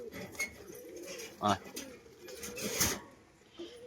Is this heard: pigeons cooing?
yes